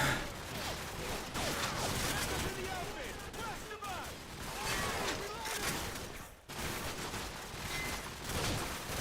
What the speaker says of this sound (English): Shut up and keep them pinned down. Suppressing fire!